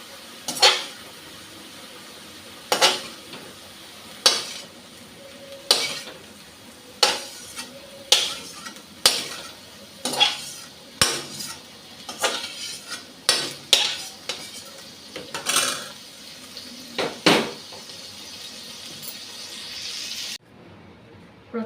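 Lightly fried shrimp is lifted from a pan of oil, giving a series of sharp metal spatula clinks and scrapes roughly every second or two over a low, steady sizzle, close up with no talking.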